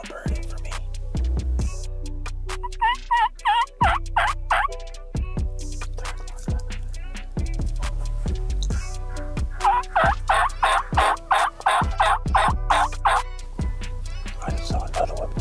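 A wild turkey gobbles in repeated loud rattling bursts during spring turkey hunting season in Iowa, the calls clear and fairly close, with quiet clicks and sparse talk between them.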